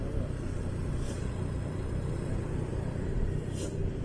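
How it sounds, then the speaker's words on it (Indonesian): A truck rumbles low and steady along a congested mountain road toward Puncak Bogor, a continuous heavy engine drone with no voices over it. "Ada truk, pantesan aja."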